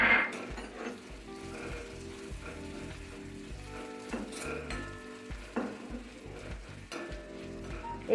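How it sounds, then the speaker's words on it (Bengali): Hand-cut flour chushi noodles fry in ghee in a pan, with a soft steady sizzle broken by frequent scraping and clinking stirs of a utensil against the metal. "একটু লাল লাল করে ভেজে নেব।"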